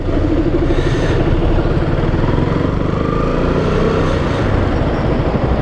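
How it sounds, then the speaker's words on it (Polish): A KTM Duke 125 single-cylinder motorcycle engine runs loud and close, with a steady, dense drone and slight rises in pitch as it revs, heard alone without voices. "Dosyć fajny piecyk jednocylindrowy, który miło wkręca się na obroty."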